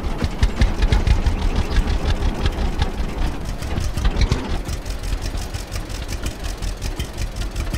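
A tractor engine runs steadily on a farm, loud and close, with a rapid rhythmic chugging that continues evenly throughout, easing slightly in intensity partway through.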